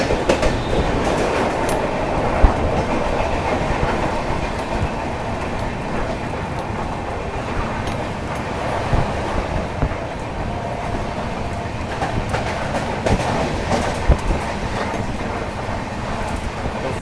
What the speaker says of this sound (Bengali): মারাত্মক স্পিডে ডিপার্চার করছে আমাদের শিয়ালদা রাজধানী